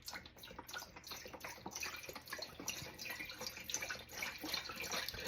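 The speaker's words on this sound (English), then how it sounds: "I've got a vegetable broth." Vegetable broth being poured into a cooking pot, a steady faint splashing trickle of liquid that continues throughout, close and quiet.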